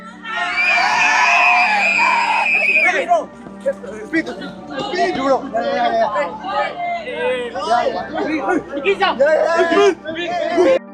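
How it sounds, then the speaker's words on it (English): An uncontrolled crowd mobs a livestreamer with zero security, loud screaming and whooping up close, then a dense babble of excited shouting voices pressing in from all sides, continuing throughout. "he was immediately mobbed by a completely uncontrolled crowd with zero security or crowd management in place"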